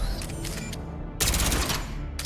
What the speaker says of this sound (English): So he's got his submachine gun there,